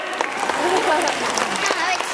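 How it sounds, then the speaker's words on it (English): Audience clapping at a bird park show in Singapore, a steady broadband wash of applause lasting a couple of seconds with some voices mixed in. "How about a round of applause for them?"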